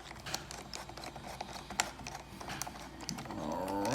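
Phillips screws are driven by hand into a DJI Phantom 4 Pro Plus drone controller during a battery replacement, giving a steady run of small close clicks and ticks, quiet and even.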